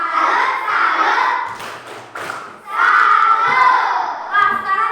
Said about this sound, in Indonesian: Coba kasih Kalima tepuk salut ya. 1, 2, 3 tepuk salut